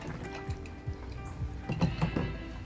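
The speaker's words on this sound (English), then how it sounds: "I'm going to dip it back in the vinegar and rinse it off." Rusty hand shears dipped in vinegar and rinsed off, giving soft liquid drips, splashes and sloshing that grow busier toward the end, faint and close with no talking.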